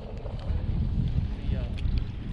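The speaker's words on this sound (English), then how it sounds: "But man, it's windy now." Strong wind buffets the microphone on rocks by the water while fishing, a steady low rumble that is close and fairly loud throughout.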